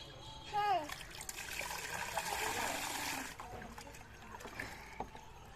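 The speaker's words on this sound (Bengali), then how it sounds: "তারপরে একটু জলটা ঢেলে নাও" Water is poured over a small child sitting in a bathing tub outdoors in shade. A steady splashing pour runs for a few seconds, and voices talk around it.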